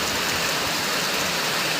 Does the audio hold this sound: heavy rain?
yes